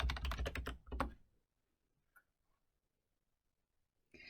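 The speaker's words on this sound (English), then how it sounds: "Simply type forklift into the search field to see the available courses." Typing a word on a computer keyboard gives a quick burst of close, crisp key clicks, then near silence with a faint tap and a few more keystrokes at the end.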